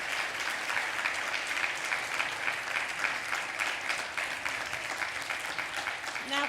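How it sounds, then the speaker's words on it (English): Sustained audience applause fills a conference keynote hall, steady and even from start to finish, with faint voices mixed in. "let's give Keah another round of applause"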